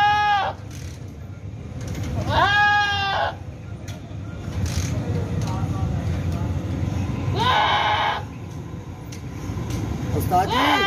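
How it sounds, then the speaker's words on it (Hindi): A goat bleats loudly in repeated cries, around two seconds and again near eight seconds, while it is castrated by a doctor with a machine on a farm; people talk throughout and a steady background hum runs underneath. "ये बकरा ये अभी खसी हो रहा है।"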